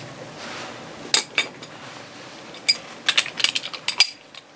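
A socket and wrench work on a Yamaha 225 HPDI outboard to remove the carrier bearing, with close metallic ratcheting clicks in short bursts over a quiet background.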